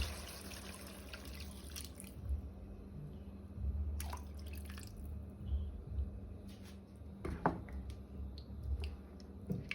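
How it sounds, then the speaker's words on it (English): Hot water poured into the container that held marinating meat while cooking a coconut curry lamb dish, heard as steady trickling and dripping with a few sharper splashes, fairly close and with no talking. "And now we're gonna go in with hot water."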